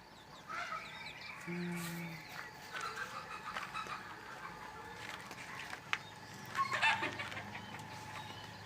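Backyard chickens cluck and call in a rural setting, scattered bursts over steady ambient noise, with one louder squawk near the end and no speech.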